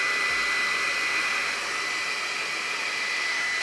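A GHD 2-in-1 hot air styler blows steadily on hair, a constant close airy roar with a high whine, running unbroken with no talk.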